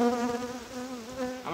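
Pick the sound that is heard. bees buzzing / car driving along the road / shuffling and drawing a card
bees buzzing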